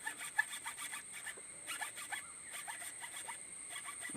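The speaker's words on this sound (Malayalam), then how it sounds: "നമ്മൾ ആക്സിൽ ബ്ലേഡ് ഉപയോഗിച്ച് ഇത് മുറിച്ചെടുത്തു." A hacksaw blade cuts through a cassava stem with faint, scratchy rasping strokes repeating at a steady rhythm, quiet and close, with no talking.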